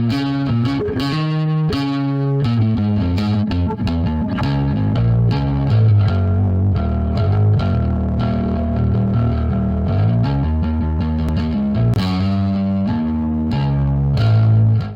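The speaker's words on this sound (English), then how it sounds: "Anyway, now we get quite some gain." Bass guitar run through the Audio Assault Bassgrinder distortion plugin with high gain, a continuous loud, gritty, saturated riff with sustained notes and quick runs, played alone.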